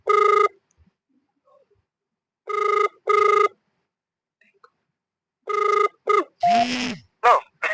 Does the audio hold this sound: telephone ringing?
yes